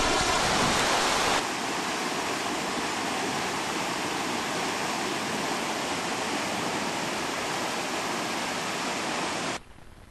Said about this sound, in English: Our end product is clean water flowing into the Cider River.